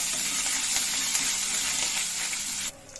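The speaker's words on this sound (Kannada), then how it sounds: "ಈಗ ಸಾಸಿವೆ ಹಾಕೊಂಡಿರ್ತೀನಿ ಜೀರಿಗೆ ಈಗ ಹಸಿ ಶುಂಠಿ ಹಾಕೊಂಡ್ಬಿಡಿ ಫ್ರೈ ಮಾಡ್ಕೊಳ್ಳಿ" Mustard seeds, cumin and fresh ginger fry in a hot pan with oil, a steady close sizzle and crackle that cuts off abruptly near the end.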